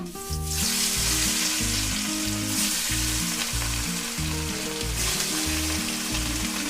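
Rohu fish pieces frying in hot oil, a loud, dense sizzle that runs without a break, with bursts of brighter crackling at the start and midway.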